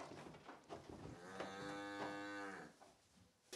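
Cattle being loaded onto a truck at a livestock event, one animal giving a long, drawn-out moo at moderate distance, faint yard noise around it.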